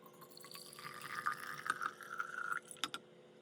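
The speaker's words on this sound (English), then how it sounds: "First, you're going to want to fill your jar about 1/3 full with the hot water." Hot water is poured into a jar, a soft, close liquid trickle that rises in a gentle fill with a few light drips and clinks, and no voices.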